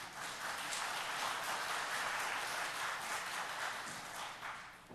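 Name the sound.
congregation applause in church service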